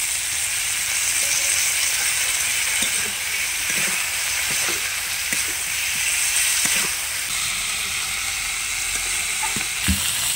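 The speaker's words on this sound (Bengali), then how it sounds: "ভালো করে নেড়ে চেড়ে দিচ্ছি" Spice paste for a fish curry frying in hot oil and being stirred, a steady loud sizzle with scattered soft scrapes and knocks of the spoon, close and without talk.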